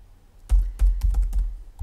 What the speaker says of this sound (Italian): adesso metto la mia password e vedete che mentre digito magicamente